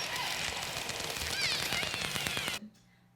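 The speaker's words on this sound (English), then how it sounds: "Resident orcas are also very vocal" Resident orcas call underwater: rising and falling whistle-like tones and pulsed calls over dense clicking and crackling noise, continuous for about two and a half seconds before cutting off abruptly.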